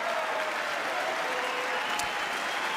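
Members of Congress applaud steadily during a State of the Union address, a loud, dense and continuous wash of clapping from a large crowd in the chamber, with no talking heard over it.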